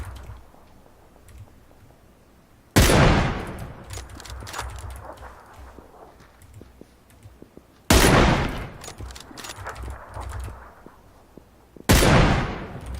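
Sniper rifle gunfire in the PUBG battle royale game: three sharp, loud single shots spaced several seconds apart, each with a trailing echo, over faint game ambience.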